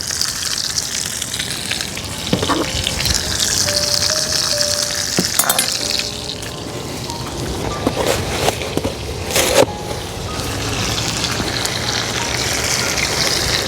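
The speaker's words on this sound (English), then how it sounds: "I'm going to go with a nice quarter stick of butter in." Butter and garlic sizzle loudly around a steak in a hot cast iron skillet, a dense crackling hiss like rain that runs continuously, broken by a few sharp clanks and bursts of spattering.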